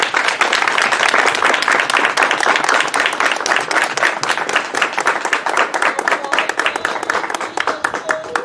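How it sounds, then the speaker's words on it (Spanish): Crowd applauds loudly and continuously in a sustained burst of many hands, close and full, with a light rhythmic pulse to the clapping and a few voices mixed in. "Un aplauso muy fuerte hasta el cielo"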